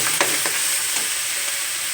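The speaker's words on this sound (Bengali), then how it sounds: "দিয়ে মশলাটাকে আমি একটু কষিয়ে নেব" Spice paste seasoned with chili and salt fries in oil in a pan for a jackfruit curry, a loud continuous sizzle broken by a few quick scraping stirs near the start.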